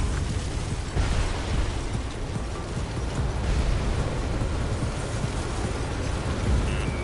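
Missile explosions in Ace Combat 7, a loud, dense rumbling roar of blasts and bursts that rolls on without pause, close and heavy with low booms, no voices over it.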